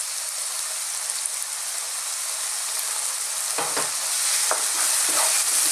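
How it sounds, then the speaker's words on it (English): Garlic ginger paste sizzles steadily in a hot pan over just-above-medium heat for an eggplant and tomato curry, with a few scraping stirs near the end and no voices. "Now we're going to add in our garlic ginger paste."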